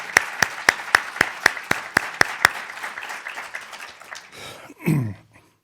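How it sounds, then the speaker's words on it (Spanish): A few people clapping in a lecture audience, sharp, evenly spaced claps for about two and a half seconds that soften into a looser patter and fade, followed by a brief low rumble. "enviar ese mensaje a toda su entrañable familia en forma de un aplauso que yo inicio"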